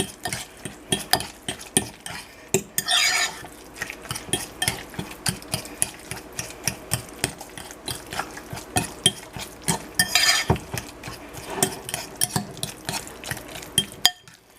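Meatball ingredients, including cold meat, are mixed together in a bowl, producing a close series of irregular wet squishes, taps and clinks that rise and fall in bursts, with no talk.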